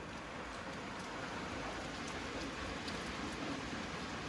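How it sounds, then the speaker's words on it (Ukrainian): Dense, steady roar of heavy rain pouring down without a break, a constant hiss with no voices. "У нас там така злива"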